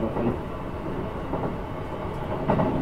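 A Keikyu New 1000 series train with Mitsubishi SiC traction equipment runs steadily along rails, with a continuous low rumble and periodic clattering of wheels over rail joints, fairly loud and close.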